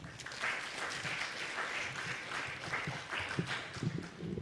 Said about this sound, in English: Let's give a big round of applause for Justin.